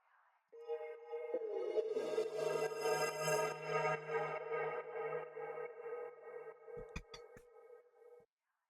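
Atmosphere sample from a synthwave sample pack, a sustained hazy synth pad with a steady tonal center that swells in, holds, and fades, broken near the end by a few sharp clicks.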